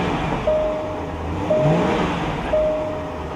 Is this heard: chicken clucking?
no